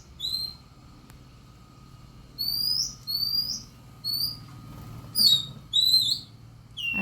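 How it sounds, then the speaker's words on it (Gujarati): A sparrow gives sharp, high chirps in short clustered bursts, repeated several times at moderate distance over a low, steady background hum. "અહીં છે ચકલી એક કેવી બોલે"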